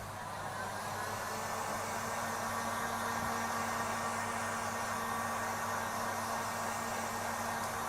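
A hair dryer blows steadily to dry layers of tape on a woodturning during airbrushing, a loud, continuous close-up whoosh with an even hum throughout.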